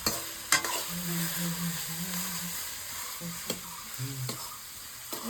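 Chicken with potatoes and onion fries in a pan over a clay village stove, a continuous sizzle broken by a few sharp clacks of stirring and a faint voice murmuring underneath.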